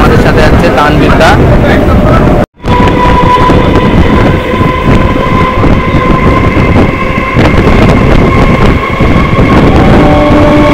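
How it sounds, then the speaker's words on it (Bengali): A nearly empty local train runs between Barasat and Dum Dum with a loud, continuous rumble and wind buffeting, its sustained tones broken by a brief dropout while voices speak. "আর এইটা দেখেন ট্রেন এখন চলছে রানিং"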